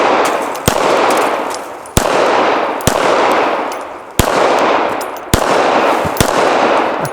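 A bolt-action rifle fires six loud, sharp shots outdoors, spaced roughly a second apart, each followed by a long rolling echo that fades before the next.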